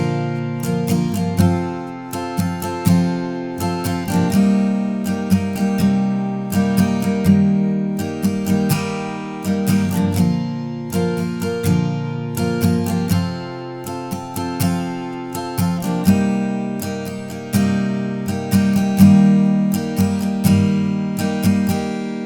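An acoustic guitar strums the main chord progression of a song in a steady, even rhythm of bright, full chords, heard up close with no voice.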